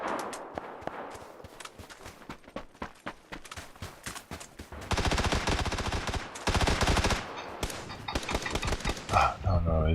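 Video game gunfire crackles in rapid bursts, from scattered single shots to a dense automatic volley, loud and close, with faint speech mixed in.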